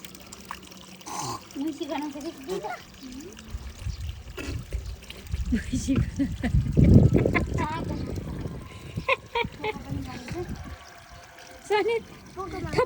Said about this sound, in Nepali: आज स्यामीको नुहारण गरिँदैछ